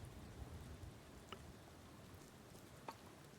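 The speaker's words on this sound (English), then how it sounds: "This is the final week of the light rain." Light rain in the farming game Doloc Town, a soft, steady patter with a few faint droplet ticks over a low background rumble, quiet and even.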